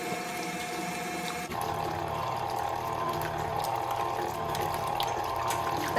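A KitchenAid stand mixer churns cream into butter with a constant, close mechanical whir and a wet sloshing churn that carries on evenly throughout.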